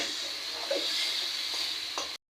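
Pumpkin flowers and onion fry slowly in a pan, a steady close sizzle running evenly with a few soft stirring scrapes before it cuts off.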